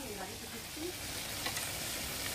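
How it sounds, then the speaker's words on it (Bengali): Meat being sautéed in a pan at a home birthday cooking, a dense steady sizzle and stirring heard fairly faintly, with a brief murmur of a voice in the background. "মাংস এখন কষানো চলছে"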